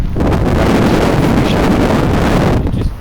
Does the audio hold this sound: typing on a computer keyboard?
no